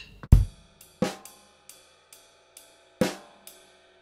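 A drum kit plays a sparse, stripped-back syncopated groove from a song, with a few firm accented hits and soft lighter strokes spaced between them, fairly quiet and unaccompanied.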